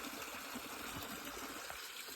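A waterfall pouring into a stream at a gold-panning spot, giving a steady, close rushing wash of water that holds even throughout with no voices.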